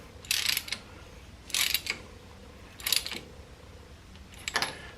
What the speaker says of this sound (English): You can see we're turning that spark plug a lot further in.